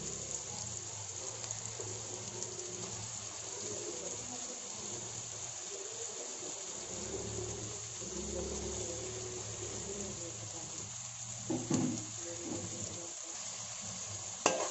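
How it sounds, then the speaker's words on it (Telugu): Chopped onions and green chillies sizzle steadily in about five spoons of hot oil for a spiced chicken gravy curry, a continuous close hiss with occasional stirring clatter and no talk. "ఉల్లిపాయలు, పచ్చిమిర్చిని బాగా వేయించుకోవాలండి."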